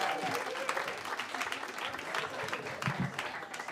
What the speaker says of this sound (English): Go ahead, give him a huge round of applause,